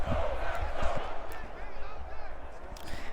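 Steady stadium crowd noise from the video game Madden NFL 23 in a Cleveland versus Green Bay game, a dense roar with scattered shouts and thumps, with a commentator's voice talking over it.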